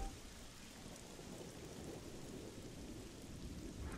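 Steady rain pouring with low rumbling thunder in the video game Xenoblade Chronicles 3, a dense continuous hiss at low volume with no voices.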